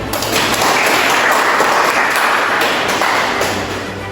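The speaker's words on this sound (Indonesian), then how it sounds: "mari kita berikan tepuk tangan" Steady clapping from a group, loud and continuous for several seconds, tapering slightly at the end.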